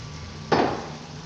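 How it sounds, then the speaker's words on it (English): 500 grams of potato tipped into a pot of browned meat, a single soft clattering thump with a short rattling tail, alone over quiet kitchen hum. "So I'm going to add the potato now."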